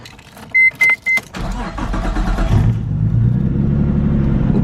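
Three quick chirps, then a car's engine cranks and starts, revving up close and settling into a steady running drone as the car is moved.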